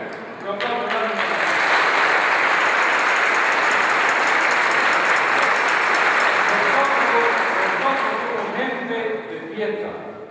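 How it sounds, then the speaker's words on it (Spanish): A church congregation at a Spanish-language Mass breaks into sustained applause, a dense, loud wash of many hands clapping together for around ten seconds, with voices heard faintly at the start and end. "Un aplauso para Él."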